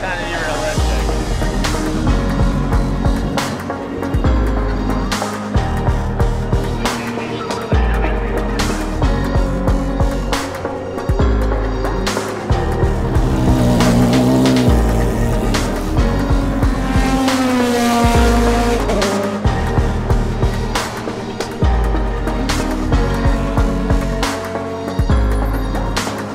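A race car on track, its tires being scrubbed, roars steadily with loud engine drone and revving pulses throughout, continuous and close, with no clear voices over it.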